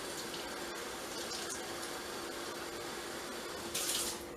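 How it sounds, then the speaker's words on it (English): Water runs from a tap into a chicken broth container in a home kitchen, a faint steady hiss of flow with a brief louder splash near the end. "I'm going to add some water to that chicken broth container that I had and fill it up halfway."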